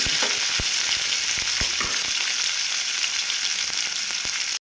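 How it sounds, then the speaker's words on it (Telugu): Green chilies and curry leaves frying in oil in a pan, a dense, even hiss of sizzling with a few soft knocks near the start, close and steady, ending abruptly. "పచ్చిమిర్చి, కరివేపాకు వేసుకొని ఫ్రై చేసుకుందాం."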